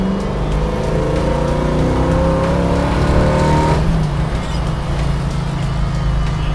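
1969 Chevy Z28 Camaro with an early GM Performance 454 LS7 crate V8 accelerating from low RPM, a loud, deep, continuous engine roar that rises steadily in pitch throughout, heard from inside or close by.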